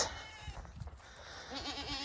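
Goats inside a farm barn, one giving a wavering, quavering bleat in the latter half, preceded by soft shuffling and low animal noises; close and moderately loud, with no talking.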